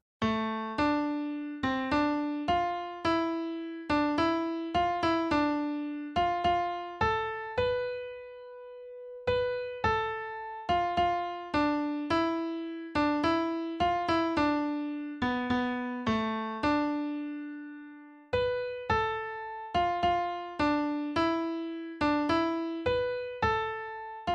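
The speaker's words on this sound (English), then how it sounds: "And now the melody, in Dorian mode, sounds like this." A plucked, bell-like instrument plays a flowing melody of quick single notes, rising and falling with a few held tones and short pauses, alone and clear.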